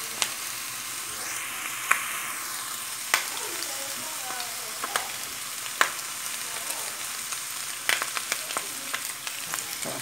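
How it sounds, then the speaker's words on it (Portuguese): A kilo of pork fat fries in a pan, giving a dense, constant sizzle with scattered sharp pops and crackles, close and steady throughout. "Eu fiz toicinho, 1 quilo de toicinho. Vou colocar para fritar."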